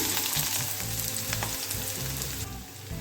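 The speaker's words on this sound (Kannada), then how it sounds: "ಒಂದು ಚಮಚ ಎಣ್ಣೆ ಹಾಕ್ಕೊಂಡಿದ್ದೇನೆ. ಮೊದಲಿಗೆ ಕಟ್ ಮಾಡ್ಕೊಂಡಿರೋ ಒಂದು ನೀರುಳ್ಳಿನ ಹಾಕ್ಕೊಳ್ಳೋಣ." Chopped onion dropped into a spoonful of hot oil in a pan on a gas stove, crackling and sizzling loudly and steadily throughout, with occasional stirring and no talk.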